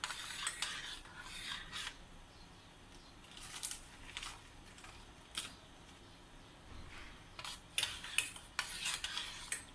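A spoon stirring strawberry custard mixture in a pot gives intermittent scraping and rubbing strokes, close and fairly quiet, in irregular bursts with pauses and no speech.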